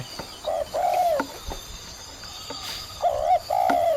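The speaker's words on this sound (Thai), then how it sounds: "เสียงนกเขา" A dove coos in repeated soft phrases, with faint chirps from other birds in the open background of rice fields in Sakon Nakhon, Thailand.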